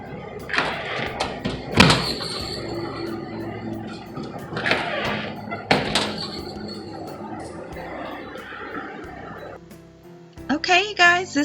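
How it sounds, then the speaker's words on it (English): A front door hung with Christmas decorations opens with a few thumps and light clinks and jingles, and a voice talks over it in a quiet home. "I love the sound it makes when I open the door"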